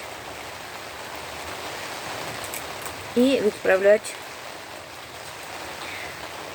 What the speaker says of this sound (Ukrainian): Ну, дощик це хорошо, конечно.